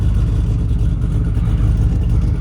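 2010 Ford Mustang GT V8 with its exhaust valves closed, giving a dense, steady low engine drone with a muffled exhaust note throughout, close and fairly loud, with no talk.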